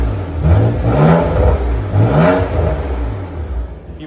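A BMW M4 engine fitted with an AWE exhaust and RK-Tunes intake revs twice in close succession, each swell rising and falling, then settles to a lower idle hum nearby.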